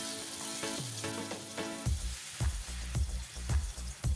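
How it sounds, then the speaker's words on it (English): Salt, turmeric and cumin powder sizzle steadily in a frying pan for a homemade egg curry, with the pan's hiss broken by several rhythmic scraping stir strokes and soft clanks close by. "Add salt, turmeric, and zera powder. Fry until it turns into pale."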